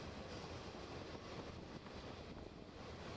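A loaded ballast train of limestone cars rolls by at the head of a manifest freight, a steady broadband rumble with wind buffeting the microphone throughout, no voices.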